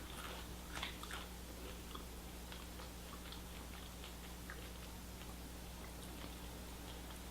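Faint crisp crunches and small snaps of dry grain-free cereal being bitten and chewed close by, over a quiet hum.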